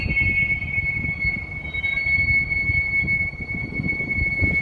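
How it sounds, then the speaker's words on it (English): A train rumbles past with a steady high-pitched wheel squeal ringing over the low rolling noise. "It's a train."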